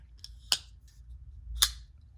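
Two sharp metallic snaps from a stainless-steel folding knife's liner lock, spaced about a second apart, loud and close with near silence between.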